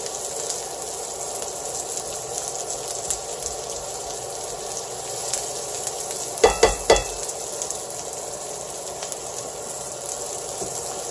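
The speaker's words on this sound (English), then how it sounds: "Heat up the pepperoni." Pepperoni sizzling and frying in a hot pan, a steady crackling hiss throughout with a few sharp clinks of a utensil partway through, no talking.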